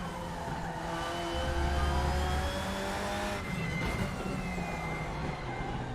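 A BMW E92 race car from the IMSA series in RaceRoom Racing Experience, lapping TT Circuit Assen with a loud, aggressive engine note that rises and falls through gearchanges and stays continuous without any talk.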